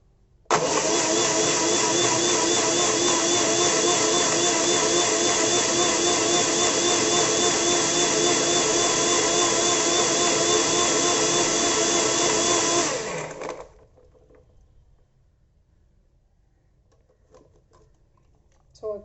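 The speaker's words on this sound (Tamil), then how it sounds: "ஸோ இப்போ இதை நம்ம நல்லா பிளண்ட் பண்ணி எடுத்துக்கலாம்." An electric blender whirs loud and close, blending a protein milkshake with milk in one steady, unbroken roar for about thirteen seconds. It then cuts off sharply, leaving near silence with a few faint clicks.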